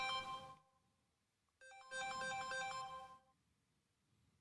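A phone's ringtone for an incoming call, two bright melodic bursts close by, the first cut off short and the second lasting over a second, with quiet gaps and no talk.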